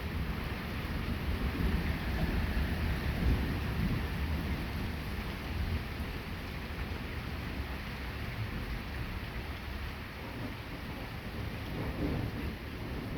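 A heavy thunderstorm pours down in a dense, continuous rush of rain, with low rumbling thunder rolling underneath throughout.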